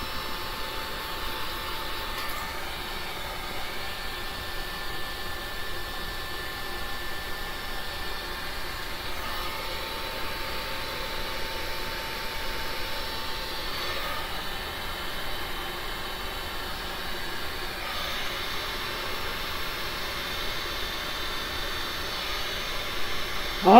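A heat tool blows steadily across a resin pour, pushing gold colour through a peacock-feather string-pull design; a constant broadband airflow whoosh runs the whole time at even loudness, with no talking.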